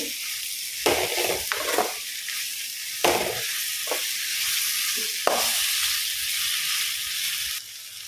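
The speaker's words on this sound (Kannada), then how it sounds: "ಈಗ ಎಲ್ಲ ಜೊತೆಗೆ ಫ್ರೈ ಆಗಲಿ" Masala ingredients frying together in hot oil make a bright, continuous sizzle, broken by several spatula strokes that bring brief bursts of crackling and scraping.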